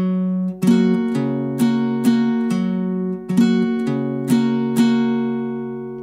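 Slow acoustic guitar strumming with alternating bass notes and downstrokes, a steady pattern of plucked bass tones followed by full chord strums, played alone and close.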